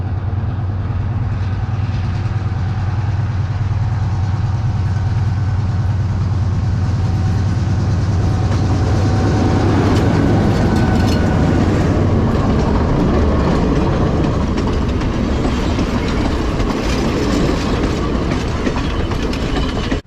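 A diesel locomotive pulling a mixed train rumbles past nearby in Sri Lanka with a deep engine drone and clattering wheels that grow louder and busier as the cars roll by.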